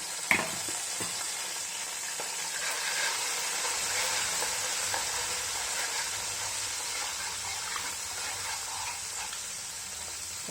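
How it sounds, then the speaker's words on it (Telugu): Tamarind paste frying in oil for bitter gourd chutney makes a close, steady sizzle and hiss, with one sharp clink near the start and no voices. "ఆ చింతపండు నూనెలో వేసుకోవాలి. కొంచెం పచ్చివాసన పోయేదాకా కొంచెం వేయించాలి."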